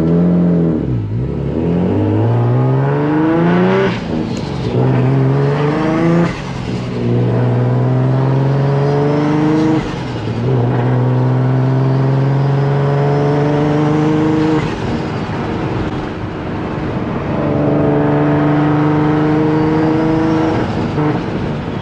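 A turbocharged Nissan Z accelerates hard through repeated rising pulls, loud and close, with engine pitch sweeping up between gear changes and brief turbo flutter at each lift-off.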